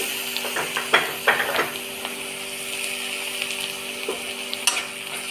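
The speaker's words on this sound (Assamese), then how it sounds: "আদা নহৰুখিনি অকণ ৰঙা হোৱালৈকে ভাজিছোঁ এনেকৈ" Chopped ginger and garlic fry in a pan with browned onions for a mutton curry, a steady close sizzle punctuated by irregular scraping and clinking strokes of a stirring spoon.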